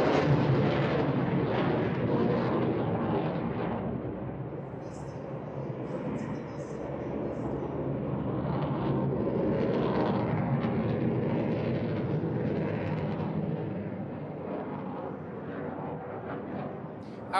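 A Finnish Air Force F/A-18 Hornet jet flies at the NATO Days 2022 air show, a broad, continuous roaring rumble that swells and fades slightly, with a voice talking underneath.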